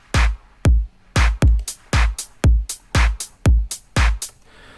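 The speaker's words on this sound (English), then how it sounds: "First of all, it's drums," Punchy electronic drums from a track produced in FL Studio 20, with a Vengeance kick: a steady sequence of loud, sharp kick-and-snare style hits, closely spaced and rhythmic, with no voice over them.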